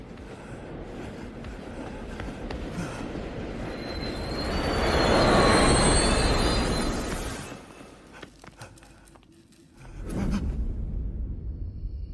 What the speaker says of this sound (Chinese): 哦，车来了